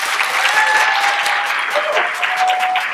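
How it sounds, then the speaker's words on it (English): A packed room at an Albany State University education pinning ceremony breaks into steady, close applause for a retiring staff member, with a few bright whoops rising above the clapping throughout. "round of applause"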